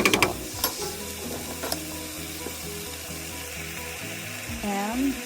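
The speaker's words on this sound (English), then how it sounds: "Stir it and add the tomato sauce." Cooked pork fries in a pan with a steady sizzle, while a utensil scrapes and stirs through it with a few clinks against the pan, no voices.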